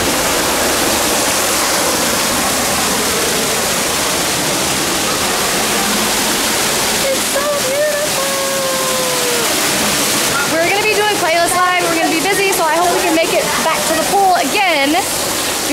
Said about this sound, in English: I'll take you guys through the waterfall.